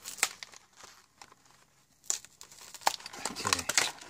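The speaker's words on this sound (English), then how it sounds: "It's 10 minutes trying to open up this packaging without destroying it" Taped packaging on a Trumpeter 1/35 Dicker Max model kit being torn and crinkled open by hand: scattered close rustles and sharp tearing rips with quiet pauses between them.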